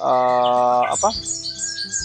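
A flamboyan bird singing, with a loud sustained harmonic whistle followed by quick chirps and squeaks and thinner high twittering trailing off, close and clear with no talk over it.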